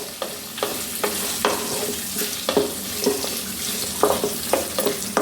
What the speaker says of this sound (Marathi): एक 2 मिनिटं मसाला फ्राय करून झालेला आहे